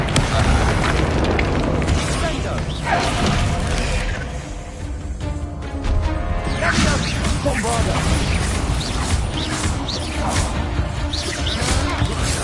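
Booming spell blasts from the Bombarda spell in Hogwarts Legacy ring out loud and dense, crashing explosions layered with battle noise and voices in continuous heavy combat.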